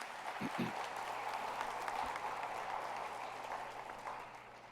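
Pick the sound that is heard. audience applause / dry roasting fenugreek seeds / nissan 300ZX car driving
audience applause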